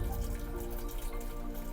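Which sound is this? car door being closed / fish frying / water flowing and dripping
water flowing and dripping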